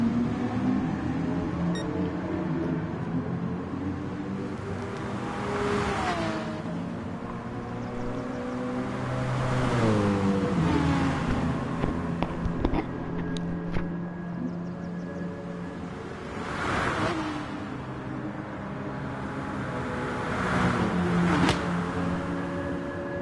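Aston Martin Vantage V12 and BMW M6 GT3 race cars in a sim-racing game on a wet Spa circuit: engines roar continuously, climbing and dropping in pitch through gear changes, with sharp crackles between shifts.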